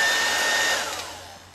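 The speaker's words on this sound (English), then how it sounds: "you take the hair dryer" A hair dryer blows steadily at close range during zombie Halloween makeup work, a loud broadband rush of air that fades slightly toward the end.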